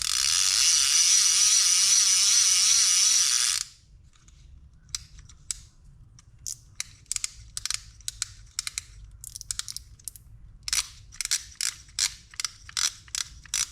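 A loud continuous buzzing whir first, then a Piscifun Alijoz 400 XH baitcaster reel's clicker ratcheting in quick irregular bursts of sharp clicks, close up with no talking.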